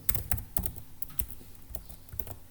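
Quiet, close computer keyboard typing in quick irregular clusters of keystrokes while editing a text file in a Linux terminal, with no talking.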